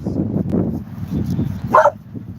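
A hyper but friendly dog barks once, sharp and close, near the end, under people talking outdoors.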